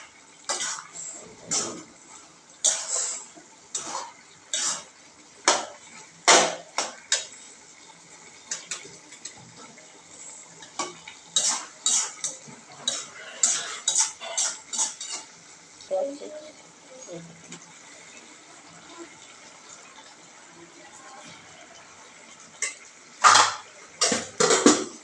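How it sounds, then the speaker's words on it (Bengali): Cauliflower is stirred in a cooking pan with repeated close clattering scrapes and knocks of a utensil against metal, coming in busy clusters with pauses, while voices murmur in the background. "কপিটা সুন্দর করে দিয়ে নাড়াচাড়া করতেছে"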